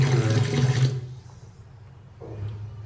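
Water rushes briefly into a wash basin, then fades to a soft, slow gurgle as it drains away through a partly blocked drain pipe, with a faint swirl returning near the end.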